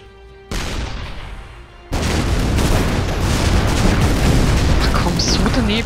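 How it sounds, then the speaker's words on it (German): Tank cannon shots and explosions in the Shellshock Live artillery game: loud booming blasts in a dense, continuous barrage, with whistling projectile sounds near the end. "Schnell noch meine besten Schüsse raushauen"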